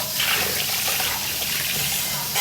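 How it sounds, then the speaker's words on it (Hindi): Water pouring into a container at home, a steady broadband rush that stays loud and close across the whole stretch with no voices over it. "ज़्यादा ही पड़ गया पानी इसमें डल गया"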